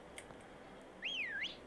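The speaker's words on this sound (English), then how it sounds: "I just whistled" A single short, faint whistle from a character in the Pokemon Shield video game, sliding up and down in pitch over quiet game background.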